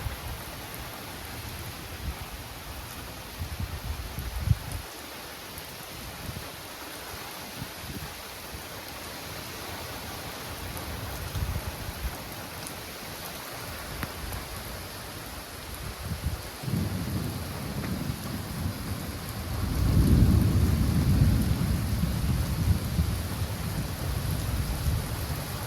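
Severe thunderstorm with heavy rain and gusty winds: a steady rain hiss throughout, low thunder rumbles early on, and a louder, swelling rumble and downpour building from about two-thirds through.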